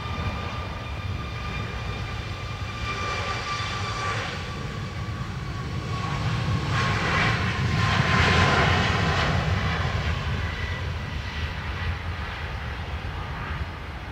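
Air Transit 231's airliner jet engines roar on runway 10 right at Dublin Airport, a steady broad rumble that swells to a peak midway and then eases slightly, heard from a distance with no voices.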